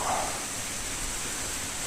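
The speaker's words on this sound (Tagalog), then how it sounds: "Kasi umuulan, medyo malakas na yung ulan." Heavy rain pours steadily in a wide mountain area, a dense, even hiss that fills the whole stretch close by with no voices.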